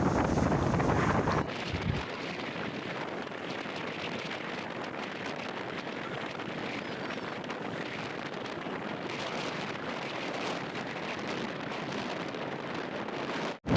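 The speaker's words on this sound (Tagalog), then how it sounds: "Basta ganito po yung hangin" A strong amihan wind at sea blasts across the microphone in a constant roar over rough water where boats ride the waves, loud and unbroken, with no talking.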